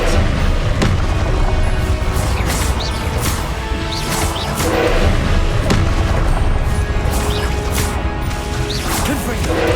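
Confringo spell blasts in the video game Hogwarts Legacy, with repeated sharp crashing impacts and whooshes bursting over a loud, dense combat soundscape.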